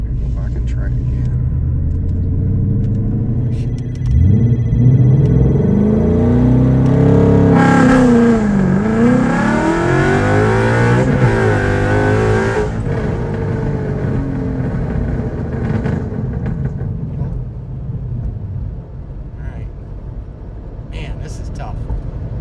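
A car with a Tremec 2.97 transmission accelerates hard in a 0-60 street run, its engine revving up in a deep rumbling sweep, peaking mid-run, then easing off, heard loud and close from inside with voices talking.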